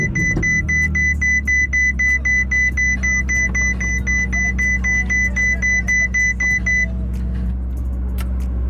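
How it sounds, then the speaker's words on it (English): A Ferrari 488 Pista Spider powering up with a steady high electronic beeping pulse, like a microwave, over a low idling drone; the beeps stop after about seven seconds while the deep hum carries on loudly close by. "let me turn on the car so you guys can see how it sounds like a microwave."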